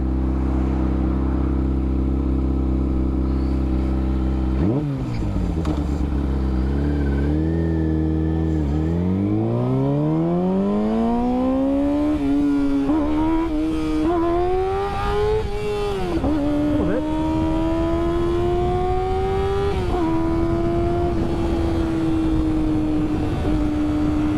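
Motorcycle on a mountain pass ride revving for a wheelie: engine drops off, then climbs hard through the gears in rising surges with steady wind noise, close and loud throughout.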